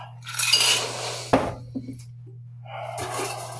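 Ice clinks and rattles against a mint julep glass as it is stirred, with a sharp knock partway through and a brighter burst of clinking near the end.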